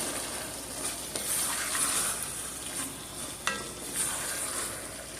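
Spicy three-bean chili cooking down in a pot, a continuous close bubbling sizzle with a few soft stirring clanks, no voices.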